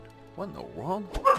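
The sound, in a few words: dogs barking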